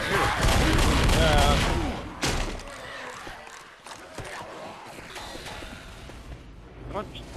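Gunfire in the co-op shooter Left 4 Dead, a dense burst of rapid shots up front, then scattered sharper reports, with several players talking and shouting over the game noise.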